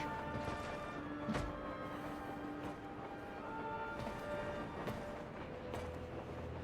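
A train rolls along in Final Fantasy VII Crisis Core Reunion, a steady dense rumble with clattering knocks and a few sharp metallic hits throughout.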